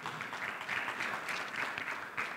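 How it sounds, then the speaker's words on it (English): A church congregation gives a hand clap of praise, a soft, even wash of applause heard at a distance, sustained for a couple of seconds with little else over it. "Can you give the Lord a hand clap of praise?"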